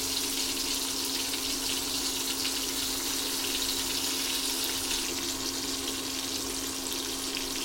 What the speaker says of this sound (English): Let it keep frying on low flame.